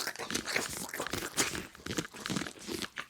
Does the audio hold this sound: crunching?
yes